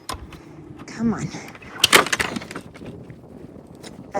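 An old, worn-out door is shifted around while a garage is being decluttered, giving a few scraping knocks and a sharp wooden bang midway, with quieter rustling and handling noises around it.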